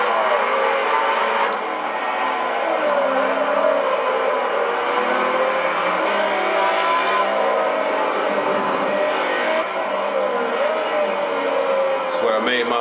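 A Ferrari 599XX engine in Forza Motorsport 3 drones loud and sustained at high revs, a continuous strained whine with smoothly shifting pitch and a brief shift-like dip near the end.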